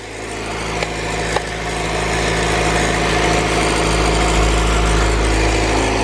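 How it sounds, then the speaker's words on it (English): A JDM B18C Type R engine with a GT3582R turbo in an EJ6 car idles steadily and loudly, with a faint, light rattling mixed into the steady hum and no talking. "Not sure what that little rattling noise is."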